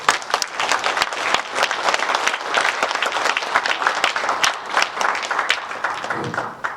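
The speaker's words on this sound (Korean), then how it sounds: "뜨거운 박수 좀 부탁드립니다" An audience at a political discussion forum applauds warmly, a loud, dense wash of many hands clapping continuously for several seconds before tapering off.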